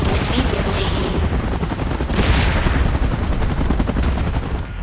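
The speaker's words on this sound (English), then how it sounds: "Chopper in position." A helicopter in the video game PUBG thrums with loud, dense rotor chop throughout, mixed with rattling gunfire-like bursts and heavy battle noise.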